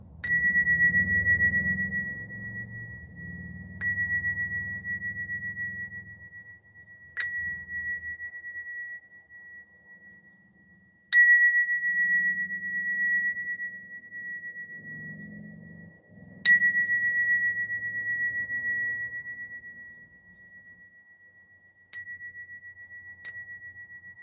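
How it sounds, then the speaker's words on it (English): A clear bell is struck six times, each ring sustaining a long, pure tone that slowly fades before the next strike. "I'm going to end with a little bit of a bell clearing."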